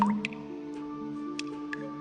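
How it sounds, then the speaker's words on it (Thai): Water drips steadily, each drop a small distinct plink at a slow irregular pace over a constant low hum, in a quiet indoor space. "เสียงน้ำหยดก็ดังมาอีกครั้ง"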